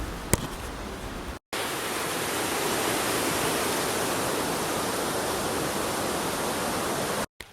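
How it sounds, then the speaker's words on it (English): A river on the Appalachian Trail rushes in a steady broadband wash that fills the clip from start to finish, broken only by two very brief dropouts near the beginning and the end. "We gotta ford this river right here."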